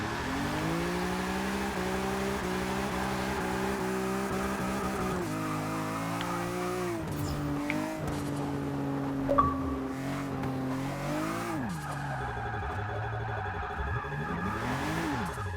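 A 1954 Jaguar XK120 SE with all-wheel drive drifts in Forza Motorsport 6, its engine holding a steady loud drone that rises and falls through gear changes while the tires squeal and skid.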